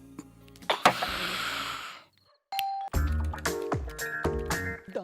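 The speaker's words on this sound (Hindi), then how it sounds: "आधी रात को बेल बजा रहा है?" A doorbell at a home rings at midnight, chiming in a few separate bursts with clatter and thumps between them, in a comedy scene from a Hindi film.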